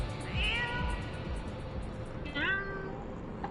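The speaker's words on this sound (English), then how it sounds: "A cat!" A cat in the online game Final Fantasy XIV meows twice, a short call followed by a longer rising-falling one after a pause, heard fairly softly over a low background drone.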